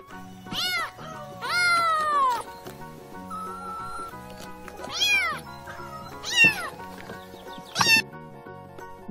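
A cat meows several times in drawn-out, rising and falling cries, clear and close over a faint musical background in an alphabet phonics song for toddlers.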